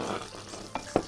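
Prawns and vegetables frying in a pan for fried rice, a soft sizzle under a couple of clinks and scrapes of stirring, close and brief.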